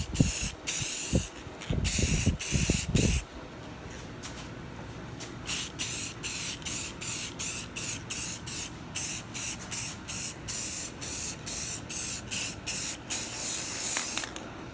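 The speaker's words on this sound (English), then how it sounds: "this is kind of like the trick to spray painting" Spray paint hisses onto a dash speaker panel, starting with a few longer bursts and then settling into a steady run of short, evenly spaced sprays, close up with no talk.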